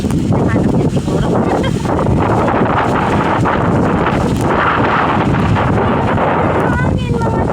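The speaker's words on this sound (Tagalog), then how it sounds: "Hangin mga day. Malakas ng hangin." Strong outdoor wind batters the microphone in heavy, continuous gusts, loud and rumbling throughout, with faint background sounds half-buried beneath the roar.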